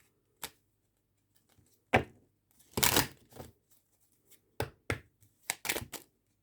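A deck of tarot cards being shuffled by hand, heard as a series of short, crisp riffling and slapping bursts with quiet gaps between them, close and fairly soft, with no talking.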